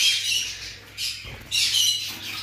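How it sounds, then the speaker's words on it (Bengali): Lutino budgerigars squawking in a cage at a bird sale, bursts of shrill, raspy chatter from several birds in quick succession, close and fairly loud with no speech. "তারপর এখানে লুটিনো বাজরিগার রয়েছে"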